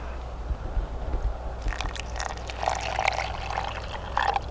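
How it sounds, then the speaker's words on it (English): Water is poured into cherry beverage powder from a 23-year-old MRE ration, a close, steady trickle and splash with light crackling, heard alone without talk. "we'll add a little water to it and let it set."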